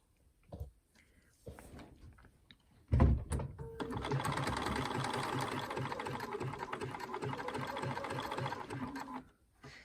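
Sewing machine stitching a seam in knit fabric, running steadily for several seconds after a few short clicks and handling sounds, loud and close, then stopping.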